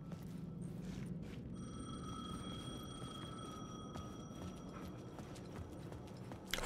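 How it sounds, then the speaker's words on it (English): A payphone rings in the Alan Wake II video game, a steady electronic ringing tone that holds for a few seconds over a noisy ambient game background, with no speech. "The payphone was ringing."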